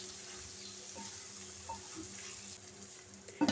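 Spices with ginger sizzle in a pan for an okra (bhindi) curry, a steady close frying hiss throughout with a few faint stirring touches and a sharp clatter at the very end.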